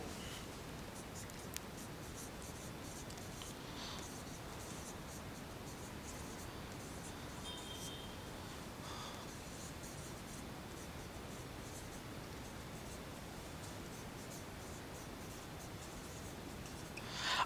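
Pen scratching out an example sentence during an English grammar lesson on complex sentences, a faint, steady, soft rasp that runs continuously with no talking.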